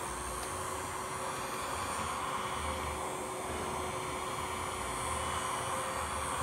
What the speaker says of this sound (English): I can't put the dryer on high because then you won't hear me.